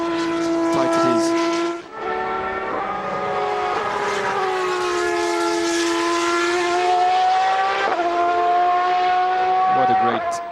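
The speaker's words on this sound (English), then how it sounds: "What a great sound is V12 engine." A Superleague Formula race car's V12 engine screams loudly on a qualifying lap at the Nürburgring, holding high sustained revs with brief dips for gear changes, while a commentator talks over it.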